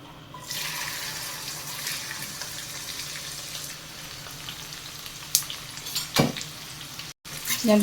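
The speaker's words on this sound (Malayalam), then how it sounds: "ഇതും കൂടെ നമുക്ക് വറുത്ത് കോരിയെടുക്കാം" Okra masala, ladies finger coated in spice, frying in hot oil in a small pan, a steady close sizzle with brief scraping and clinks near the end.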